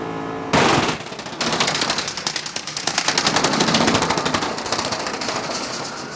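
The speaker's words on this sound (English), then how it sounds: "that pop you get when you hit the wall" A NASCAR race car's tire blows out with a sharp loud bang, then the car hits the wall in a rapid rattling barrage of crackling impacts that roars on for several seconds, harsh and close with no voices.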